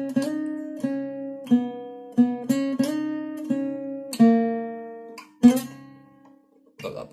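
A guitar plays the solo riff from a song: a string of picked single notes with slides, evenly spaced and ringing briefly, some louder accents, close and solo with no talking.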